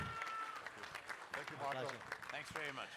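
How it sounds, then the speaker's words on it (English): A crowd claps for a team at an evening horse-racing preview event, the applause steady and fairly loud while a voice talks over it. "Let's give them a big round of applause once more,"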